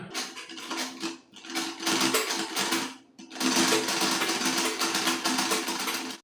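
A sewing machine stitches piping onto fabric at an unhurried pace, running in steady bursts with a short pause near the one-second mark and another around three seconds, loud and close with no voices.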